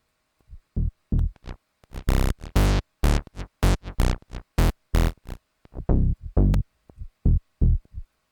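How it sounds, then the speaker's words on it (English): A tech house bass line plays with its filter cutoff opened, a run of punchy, evenly spaced notes that swell brighter and fuller, loud and alone with no talk. "that's what it sounds with the filter open, but yeah, that's the bass"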